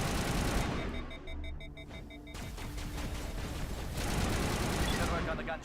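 Explosive rounds firing in Mass Effect 1, a clatter of rapid gunfire and booming hits mixed with game effects, continuous and fairly loud, with some speech underneath.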